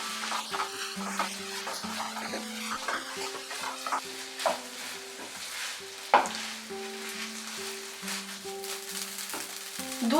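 Washed rice being stirred and fried in a pan for green peas pulao, giving a continuous soft sizzle with scraping stirs and an occasional clink of utensil on metal, close by and with no talk.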